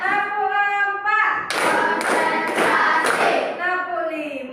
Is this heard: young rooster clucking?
no